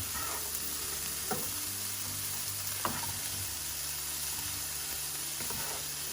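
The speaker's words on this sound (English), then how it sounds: "Want to make sure you mix this around, get these cooking." Curry shrimp stirred with milk in a frying pan sizzles steadily throughout, with a few soft scrapes of the spoon against the pan surfacing now and then.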